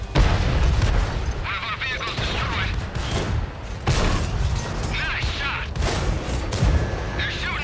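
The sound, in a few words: tank gunfire and explosions in World of Tanks video game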